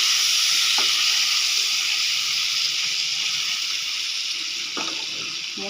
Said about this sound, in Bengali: এবার পনিরটা হালকা করে ভেজে নেব।